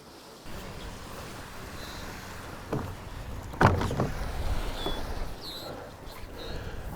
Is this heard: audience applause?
no